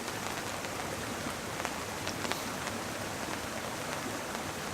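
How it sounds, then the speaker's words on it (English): Hail comes down onto a tarp overhead in the wilderness, making a dense continuous patter with a few sharper individual hits that stand out briefly, steady and fairly soft, with no talking. "This is hail."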